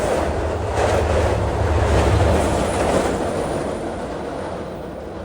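Long Island Rail Road train 6038, running Jamaica to Speonk, rolls past close by as a loud, steady rumbling roar that swells and then slowly fades, no voices.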